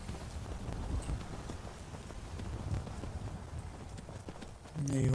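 Horse hooves galloping in Skyrim, a rapid steady clip-clop of hoofbeats running continuously under faint background noise, with a brief louder burst at the very end.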